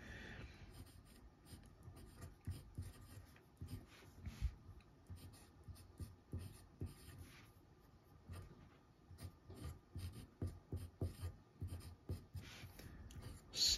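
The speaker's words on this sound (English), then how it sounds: "let's do a writing sample" A TWSBI ECO fountain pen with a stub nib writes on paper, giving quiet close scratching strokes in irregular bursts with short pauses between words, soft and intimate throughout.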